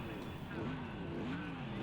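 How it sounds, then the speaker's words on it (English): GT3 race car engines idling and revving together at the start of a warm-up lap at a Texas road course in the Project CARS 2 racing game, a steady low droning hum with harmonic whine throughout. "The drivers now have control of their engines and everything else, as you can hear."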